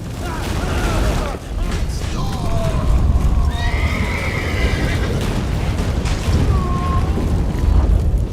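Loud, dense rumble of galloping hooves with several shrill horse whinnies rising over it in The Witcher 3: Wild Hunt, dramatic and cinematic, with a voice briefly underneath.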